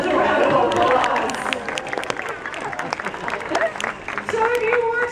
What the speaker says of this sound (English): Let's give these dolphins a round of applause.